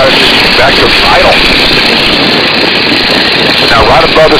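A Stearman biplane's engine is throttled back toward idle in flight, a loud, steady rumble filling the cabin while a voice talks over it.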